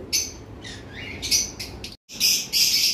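Lovebirds chirp in short bursts, a series of bright, high tweets and squeaks close by, with a brief silent gap before another busy cluster of calls.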